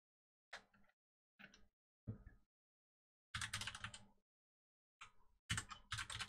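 Someone types an email address on a computer keyboard, producing quiet clusters of rapid key taps separated by short pauses in an otherwise silent room.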